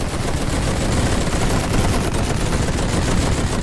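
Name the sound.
two machine guns firing in The Great War video game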